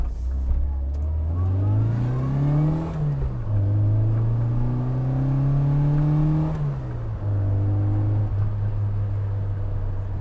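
An Austin car with an A-Series engine and SU carburettor accelerates through the gears, its engine note climbing in pitch, dropping at each change, then climbing again, close and steady.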